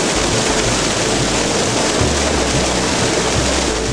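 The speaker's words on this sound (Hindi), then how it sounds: "जरा पानी की गर्जना तो सुनिए।" Roaring river water where the Baspa meets the Sutlej near Karcham dam in the Himalayas: a loud, continuous broadband rush with deep low rumble underneath, steady throughout with no talk.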